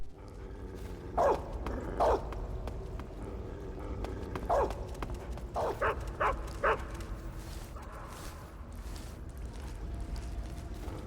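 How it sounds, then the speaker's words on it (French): A guard dog in the stealth game Metal Gear Solid 3: Snake Eater barks in short sharp bursts, about six or seven yaps spread across the stretch over steady game ambience and low rumble. "Connard de chien. Il me mord le cul!"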